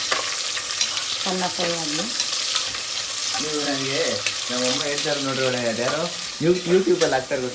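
Onion and green chillies fry in a pan with a constant close sizzle while people talk over it throughout.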